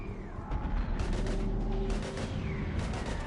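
Gunfire in Mass Effect 3 combat, several sharp bursts of rapid shots over a low rumbling background, coming in clusters with short pauses between them.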